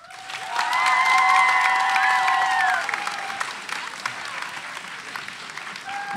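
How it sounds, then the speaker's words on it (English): Audience claps and cheers loudly for a spoken word poet at a grade 11/12 competition, a dense burst of applause that swells, holds for a few seconds, then thins to scattered clapping, with whoops and a voice rising above it. "Keep making some noise for your poet, Rafael."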